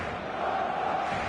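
A stadium crowd in an eFootball match roaring and cheering steadily, a dense, sustained wall of massed voices heard at a distance with no break.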